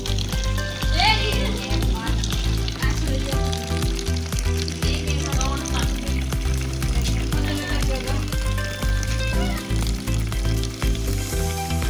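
Water runs in a steady hiss during a hair wash with shampoo at a hair treatment session, loud and continuous while people talk over it.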